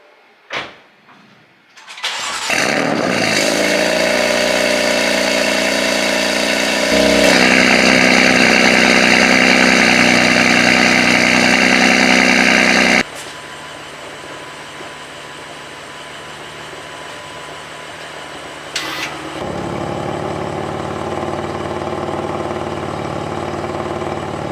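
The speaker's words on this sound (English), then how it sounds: "I filmed some clips to show you guys what the cold start sounds like on this exhaust setup" BMW F82 M4 with an aftermarket valved exhaust cold-starting: a starter whir and loud flare, a high steady fast idle, then an abrupt drop to a lower, calmer idle with a brief blip near the end.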